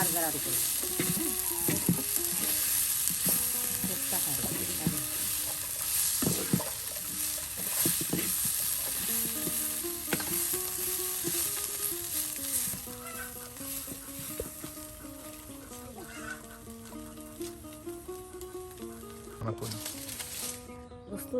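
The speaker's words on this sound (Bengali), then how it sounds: "মুরগির মাংসগুলো এখন ভেজে নেওয়া হবে তেলে" Steady, loud sizzling of chicken meat frying in hot oil fills the whole stretch, with voices talking over it and occasional stirring.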